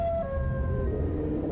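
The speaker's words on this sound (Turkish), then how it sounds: "Bakın her yerden siren sesi geliyor." Wailing sirens with long tones sliding slowly downward, sounding distant over a low background rumble.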